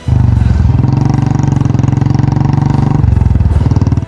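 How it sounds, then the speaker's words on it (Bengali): Royal Enfield Classic motorcycle engine idling close by, a loud, steady single-cylinder thump with a rapid even pulse that shifts pitch slightly partway through, with no voices. "রয়্যাল এনফিল্ডের ট্রেডমার্ক হলো যে সাউন্ড করে"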